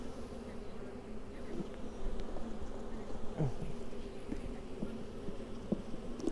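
Honeybees buzz steadily around an open, slightly agitated beehive, a close, continuous drone with individual bees zipping past the microphone.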